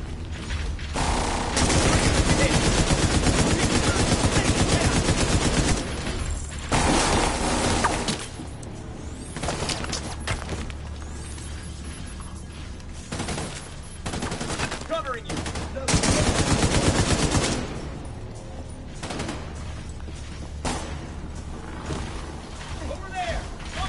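Gunfire in a video game battle: loud bursts of automatic fire and single shots come in waves over the whole stretch, with mechanical clatter and crashes, and voices speak at times among the shooting.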